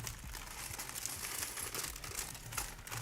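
Plastic LEGO piece bags crinkle and rustle close up in a fast, busy stream of crackling bursts, with no talking.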